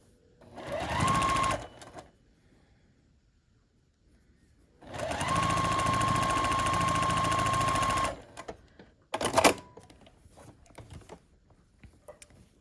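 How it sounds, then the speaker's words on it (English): Sewing machine stitching the final seam of a scrappy sampler quilt block, running in three close bursts: a short run, a longer steady whir of about three seconds, and a brief final spurt, with quiet gaps between. "you can sew the final seam across"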